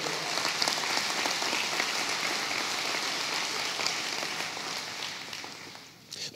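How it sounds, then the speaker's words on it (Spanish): Church congregation applauding together, a dense, sustained wash of clapping that keeps an even level and then fades toward the end. "Dale al Señor un aplauso hoy"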